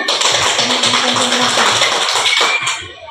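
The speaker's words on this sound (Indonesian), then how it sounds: "Tepuk tangan dulu." A group of participants in an ice-breaking activity clap their hands together, a dense, steady wash of many claps at close range that tapers off at the end.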